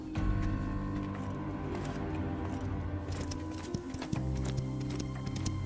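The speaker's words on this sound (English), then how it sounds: "The way that horse gallops looks really good." A horse gallops in an MMO game trailer, a run of quick rhythmic hoofbeats under sustained music, fairly quiet and at a mid distance.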